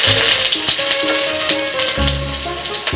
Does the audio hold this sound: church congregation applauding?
no